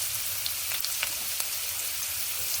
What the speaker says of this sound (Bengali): নেড়ে ভেজে নিচ্ছি আলুগুলো